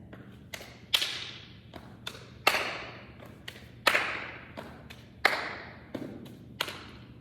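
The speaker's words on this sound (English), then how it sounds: "So I have step, step, slap, clap." Body percussion in a patting juba movement exercise: a repeating step, slap, clap pattern of sharp, close hand and foot hits in a steady rhythm, with no talk over it.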